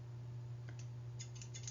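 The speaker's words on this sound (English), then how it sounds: "We have curved Mayo scissors." Curved Mayo surgical scissors are handled, giving a few light metallic clicks and snips close to the microphone over a steady low electrical hum, with no speech.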